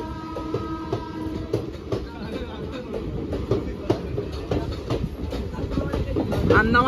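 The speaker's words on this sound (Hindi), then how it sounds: "লুধিয়ানাতে যে ট্রেনটা ঢুকেছিল সেই ট্রেনটাকে আমাদের আগে পাসিং দিচ্ছে" A passenger express train passes close by on the Kolkata–Jammu Tawai route, a steady rumble with rhythmic clickety-clack of wheels over rail joints, building slightly louder toward the end, with voices faintly underneath.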